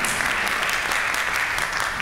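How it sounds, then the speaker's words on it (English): An audience at a high school senior awards night applauding, steady dense hand clapping filling the whole stretch, fairly loud and even with no pauses. "Give yourselves a round of applause for sticking with us."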